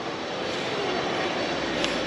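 A stone crusher roars beside a gorge in the Khadzhokh canyon, a dense, steady rushing din like a waterfall that stays constant and loud throughout, with no voices.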